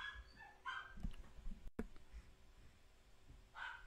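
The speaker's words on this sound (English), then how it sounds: "One second, I'm just gonna quiet my dog." A pet dog barks indoors, a few short muffled barks scattered across a few seconds, fairly faint and distant from the microphone, with no talking over them.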